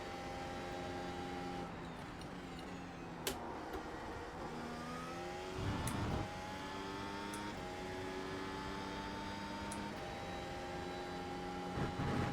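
Open-wheel race car engine in the iRacing sim, a loud, continuous high-pitched whine rising through the revs with sharp gear changes and repeated upshift climbs, alone without talk.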